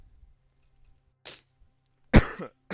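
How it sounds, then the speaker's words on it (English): A single close, sharp cough comes after a short, softer throat sound against near silence. "A cough."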